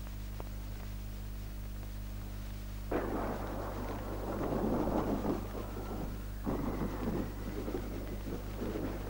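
Deep rumbling thunder rolls during a thunderstorm, two long booming peaks swelling and fading over a low steady background, with no talking.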